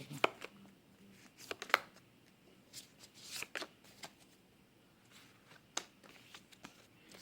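Tarot cards being shuffled by hand, soft riffling and slapping sounds in irregular clusters, quiet and close with no talk.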